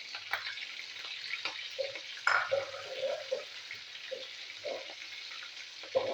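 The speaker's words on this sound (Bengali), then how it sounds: "জিরেটা একটু ভাজা ভাজা হবে।" Cumin seeds and green chillies frying in hot oil, a thin continuous sizzle with scattered light crackles and small utensil knocks, close and fairly quiet.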